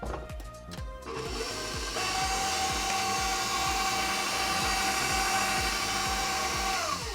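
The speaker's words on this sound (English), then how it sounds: "and then I'm gonna mix it one more time." Electric mixer beating butter, sugar, eggs and vanilla in a bowl for vegan, allergy-friendly oatmeal cookie dough, a steady whirring motor with a rapid rhythmic pulse, close and continuous throughout.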